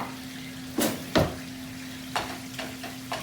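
Minced meat for larb frying in a pan while a spoon breaks it up, with a low steady sizzle and several distinct scraping, clattering spoon strokes spaced through it.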